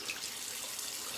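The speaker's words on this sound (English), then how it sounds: "Get into the cold water rinse." Tap water running steadily for a cold rinse after a shave, a brief close hiss of flow with no voices.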